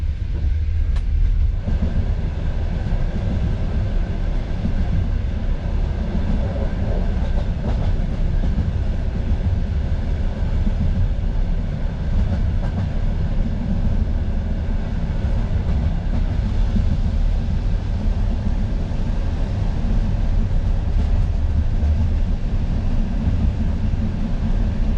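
An overnight train in Belarus runs along the rails near the Ukraine border, a loud, continuous rumbling roar with faint clickety-clack heard from inside the carriage, with no voices.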